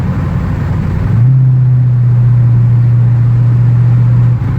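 A Ford Super Duty 6.2 engine on a 4-inch Flowmaster exhaust hums from inside the cab while cruising up a grade, a loud steady low drone that settles into a constant tone after a brief rise.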